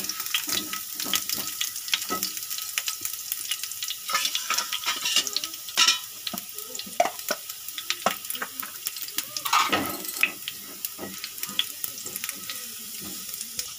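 Garlic sizzles and fries in a pan, browning while being stirred, with a steady broadband hiss punctuated by frequent scraping and clinking stir strokes; no one speaks.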